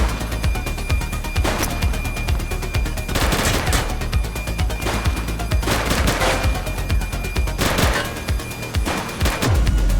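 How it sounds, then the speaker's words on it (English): Gunfire in the police video game The Precinct, with dense bursts of shots and rapid volleys rolling over a steady low rumble of action, loud and sustained across the whole stretch without pause. "Shots fired!"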